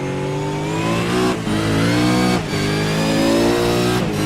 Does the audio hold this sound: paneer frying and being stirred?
no